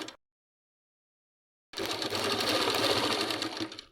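A sewing machine stitches an Afghani salwar, starting abruptly after a silent pause and then running as a loud, steady, close whirring hum until the end.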